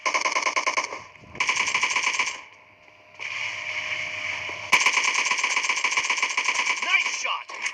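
Rapid bursts of machine gun fire from a video game, loud and close, rattling in several long volleys separated by short pauses.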